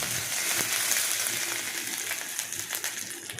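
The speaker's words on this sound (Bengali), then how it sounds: "তারপর তার মধ্যে আদা পেস্টটা দিয়ে দিলাম দিয়ে সেটাকে ভালো করে নাড়াচাড়া করলাম" Ginger paste frying in a pan while being stirred, giving a steady close sizzle with faint scraping throughout.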